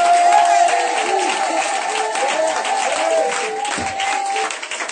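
A church congregation applauds and cheers during a worship service, dense loud clapping with voices and shouts mixed in, holding steady then easing off near the end.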